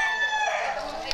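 A turkey held in someone's arms at a backyard in Tanawan, giving off a short run of high, harmonic calls that sound close and fairly clear over a thin background.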